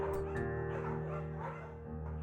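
A scruffy, undersized beagle in the video game Firewatch gives short yips and whimpering barks over a steady background tone, with no talking.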